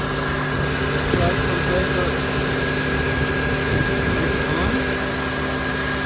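A Honda Civic 1.8 engine idles steadily with its cooling fans running, a constant mid-pitched hum and whir with faint engine pulses beneath, heard close under the bonnet.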